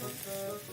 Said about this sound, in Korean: 버섯을 먼저 넣어 볶아줍니다.